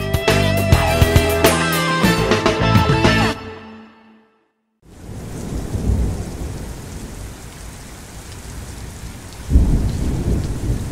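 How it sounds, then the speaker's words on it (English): Heavy, steady rain pours down with rolling thunder in a storm, filling the scene with a dense wash of noise after a short stretch of music, then a louder surge of downpour near the end. "Oh man, it's still raining on the Gator Nation."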